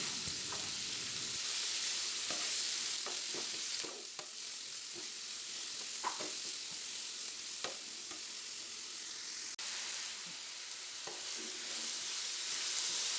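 Sliced onions sautéing in a pan for an egg kurma, a continuous soft sizzle with scattered light clicks and scrapes of stirring across the whole stretch.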